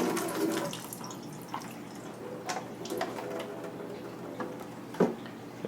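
Liquid drained from an opened tofu package trickles and splashes faintly, with a few soft plastic knocks and one sharper tap near the end, no talking.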